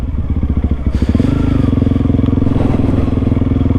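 A Honda CRF300L motorcycle rides through mud, its single-cylinder engine thumping loud and close in a fast steady pulse, with a rise in revs and splattering clatter from the tires.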